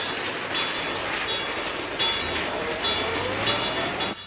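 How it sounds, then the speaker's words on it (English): A train rolls past a railroad crossing in a 1946 film scene, a steady loud rumble with clickety-clack wheel rhythm and rising, falling rail noise throughout. "Hear the train?"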